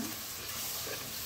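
Milk poured slowly into a hot pan of béchamel base and stirred, a dense hissing sizzle heard up close for just over a second with no voice.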